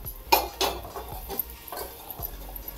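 Food being stirred and mixed in a pan with salt and chopped coriander, a spoon scraping and knocking against the metal in several irregular, close clinks and scrapes, with no talking.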